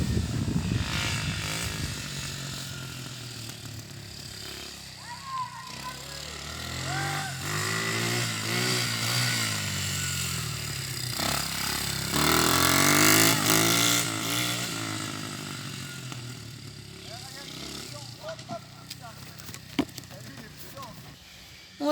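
Small motorcycle with only a front brake, ridden by a first-time learner, its engine revving up and down in sweeping pitch changes throughout, fairly close, with voices talking over it.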